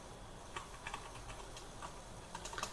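Keys clatter on a computer keyboard in short, irregular bursts of clicks, close by and fairly soft, with no talking over them.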